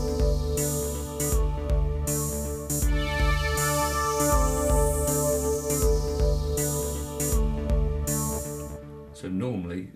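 Roland JD-Xi synthesizer plays a sequence transposed up to A: a looping bass and melodic pattern with bright pulsing pads and a steady drum beat, loud and alone, ending in a brief pitch sweep.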